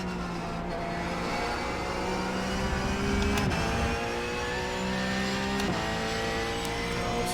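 A Porsche Cup car's engine in iRacing at Monza holds a steady, loud drone with revs rising and dropping through a couple of gear changes after a spin, continuous and close.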